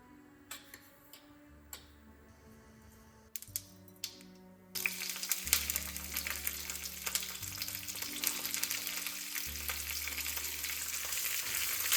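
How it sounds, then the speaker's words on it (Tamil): Cauliflower and beans being sautéed in a pan: a few quiet ticks and clinks at first, then a sudden loud, steady sizzle of frying that continues to the end. "ஸோ இப்போ நம்ம அந்த காலிஃப்ளவரையும் பீன்ஸையும் லைட்டாக சாட்டே பண்ண போகிறோம்"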